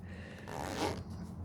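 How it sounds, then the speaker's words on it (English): A zipper on a Nintendo Switch carrying case is drawn closed in one short, quiet rasping pull, heard up close in an otherwise still room. "Then I zip it up."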